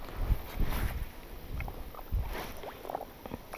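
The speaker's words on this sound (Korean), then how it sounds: "지금 바람이 갑자기 엄청 불기 시작했거든요" Strong gusty wind buffets a bass fishing spot, rumbling and thumping against the microphone in uneven bursts, with faint water and boat movement underneath and no voices.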